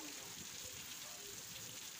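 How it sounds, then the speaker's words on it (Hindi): Heavy rain pours down steadily outside a village home, a dense, continuous hiss with soft patter that stays at an even level throughout. "ये देखिए जोरों का बारिश हो रहा है"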